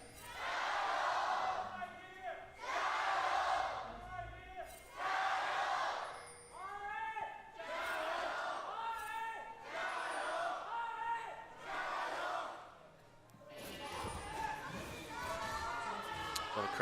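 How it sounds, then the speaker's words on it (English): A large crowd in an esports arena at an LPL League of Legends match cheers in loud repeated bursts of roaring and chanting, each a second or two long, with brief dips between them. "the crowd's out in full force today"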